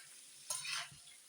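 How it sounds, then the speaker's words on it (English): A pot of food on medium heat gets a brief stir, a quiet scrape and swish over a soft steady sizzle, with no one talking. "So I'm gonna give it a little stir."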